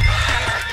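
Horse neighing in the Western video game Red Dead Redemption 2, a short loud whinny heard alone and close.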